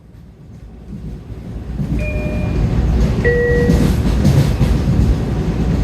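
A Long Island Rail Road train rumbles loudly and steadily as it slows into Penn Station in Midtown Manhattan, with brief high wheel squeals and rising rolling noise as it nears the platform.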